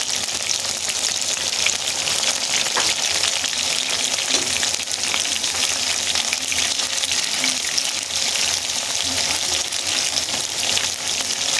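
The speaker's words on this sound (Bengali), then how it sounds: "সেই জন্য চিকেন পাকোড়া ভাজছি।" Chicken pakora deep-frying in hot oil gives a steady, dense sizzle and crackle that runs loudly and evenly throughout, with no voices.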